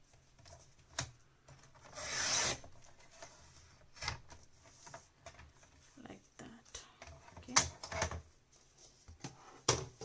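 Paper envelope being trimmed for a handmade mini album, heard as close, brief rubbing and scraping cuts with a louder rasping stretch early on, followed by scattered light taps and handling noises.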